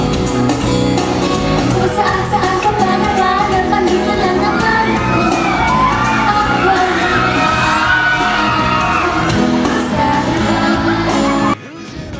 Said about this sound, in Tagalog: Sigawan ang mga tao nang lumapit si Andrea sa kanila.